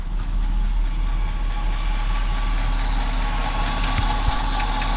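A 1985 GMC Sierra C20 square body pickup, abandoned for over two years, idles steadily with a low, even rumble heard close up and alone.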